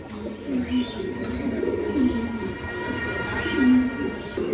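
Pigeons at a home pigeon farm give repeated low cooing calls, about three rolling phrases spaced roughly a second or more apart, over a faint background murmur.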